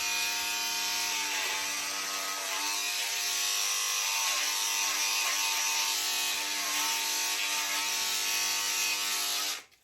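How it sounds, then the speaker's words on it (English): Electric shaver buzzing steadily and close while shaving off a beard, a continuous tonal hum that runs unbroken for nearly ten seconds before cutting off, with no talking. "I told Shelby I wanted to mess with it and just shave this part off and leave these"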